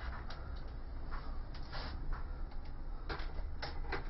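Screws are driven into a detachable twin plate bracket, with faint creaking, ratcheting turns and small clicks repeating in short bursts, close but quiet against low background noise.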